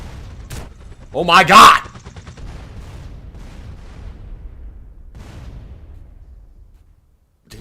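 A short, loud burst of gunfire in GTA San Andreas, followed by quieter rumbling and a voice reacting in excitement.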